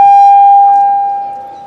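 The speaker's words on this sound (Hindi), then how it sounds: "क्या भाई सायरन दे रहे हो खत्म करने के लिए?" A steady, piercing siren tone holds one pitch, sounding loud at first and then slowly fading over its course, with no talk over it, heard during a religious sermon gathering.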